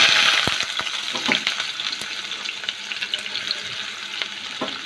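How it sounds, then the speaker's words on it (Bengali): Chopped onion hitting hot oil in a pan, a loud burst of sizzling that settles into steady close frying, with a few stirring clatters. "তেল আমি রেখে দিয়েছি কিছু এবার দিয়ে দেবো পেঁয়াজ কুচি"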